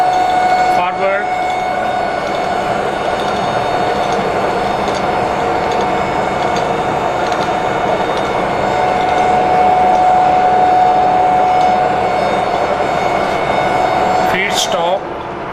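An HPSM universal all-gear head milling machine runs with its feed engaged, giving a steady, loud mechanical whine and hum that holds throughout, with a faint knock near the start and a brief clatter near the end.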